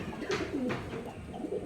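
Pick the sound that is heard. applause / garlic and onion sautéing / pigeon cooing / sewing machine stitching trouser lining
pigeon cooing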